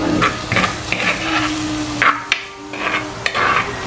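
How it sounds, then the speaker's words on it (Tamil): Katta sambal ingredients fry in hot oil until golden brown, a steady close sizzle broken by repeated scraping stirs of a utensil in the pan. "ஸோ இதை நல்லா கோல்டன் ப்ரௌன் ஆகிற வரையும் பொரிய விடுவோம்"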